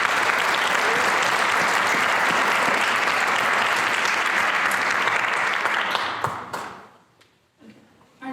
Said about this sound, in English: Please join me in applauding Brady Gleason